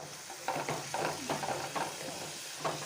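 Spices for a potato ghugni sizzle quietly in a pan just after water is added, with soft rhythmic stirring strokes scraping through a faint steady frying hiss.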